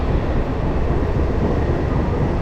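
Loud, continuous rumble and roar inside a new passenger train on its inaugural run between Krishnanagar and Amghata, with a steady dense low-frequency rolling noise and no talk.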